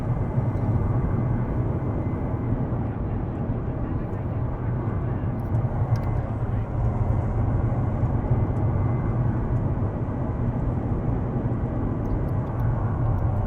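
Jet engine roar of a British Tornado in War Thunder simulator battle, a steady, loud, dense rumble holding constant throughout with no breaks.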